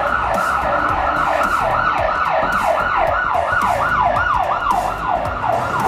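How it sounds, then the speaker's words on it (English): Loud ambulance siren wailing in a rapid, repeating up-and-down sweep, close by, over a low rumble of traffic. "That's your ambulance, by the way."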